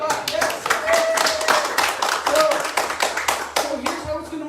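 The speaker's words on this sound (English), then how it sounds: "Round of applause, that's awesome." A church congregation claps in uneven, close bursts with scattered voices and a child's speech mixed in, lasting several seconds.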